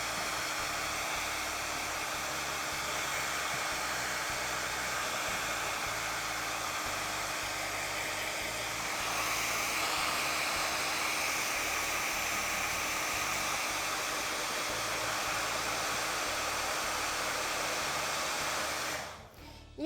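A hair dryer blows on a freshly painted can to dry it, giving a steady, close, uninterrupted whooshing roar for about twenty seconds that cuts off at the end, with no voices.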